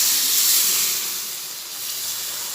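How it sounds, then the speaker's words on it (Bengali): Water poured into a hot pan of soybean curry sets off a loud, steady steam hiss and sizzle, close up and alone, easing slightly midway before continuing. "এবার অল্প একটু জল দিয়ে দেবো"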